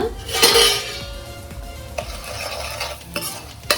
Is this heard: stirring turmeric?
yes